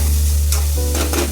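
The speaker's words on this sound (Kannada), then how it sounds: "ಒಂಚೂರು ಫ್ರೈ ಮಾಡೋಣ." Chakkoli being fried and stirred in a pan, a close, continuous sizzle with scraping stirs of a spoon over it.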